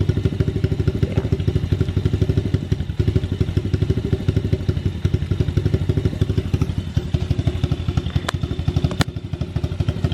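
A Yamaha pit bike engine idles close by with a steady, fast chugging thump that keeps an even rhythm throughout, a couple of sharp clicks near the end, and no voices.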